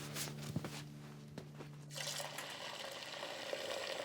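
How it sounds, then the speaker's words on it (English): Water runs from a tap into a pet dog's bowl in a kitchen, a faint hollow trickle that shifts to a fuller, steadier splash as the bowl fills, with light clinks around it. "I'll fill up your water bowl"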